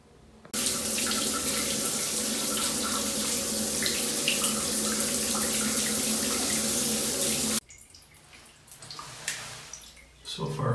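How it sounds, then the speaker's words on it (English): Repaired shower with water running during a leak test, a loud, steady hiss of spray that stops abruptly after about seven seconds, leaving faint drips and quiet room noise. "I'm just gonna let the water run, squirt it all over, and give it a good 15 minutes"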